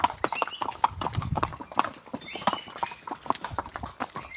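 Horse hooves clip-clop in a steady, close rhythm during a ride on the hill trail at Matheran, with a few soft background voices and scuffs.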